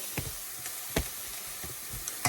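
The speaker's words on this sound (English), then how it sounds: "what I'm doing is sauteing the onions and peppers" Onions and peppers sauté in a pan for Cuban rice, a soft steady sizzle broken by several sharp stirring clacks and scrapes of a utensil against the pan.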